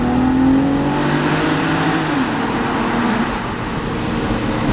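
BMW Z4 3.0si pulling up a highway on-ramp, its engine droning loudly and steadily with a rising pitch, close and continuous, with wind and road roar mixed in.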